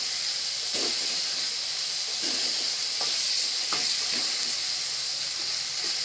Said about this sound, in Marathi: कांदा परतला की त्याच्यामध्ये मिरची आणि टोमॅटो टाकायचं ते पण परतून घ्यायचं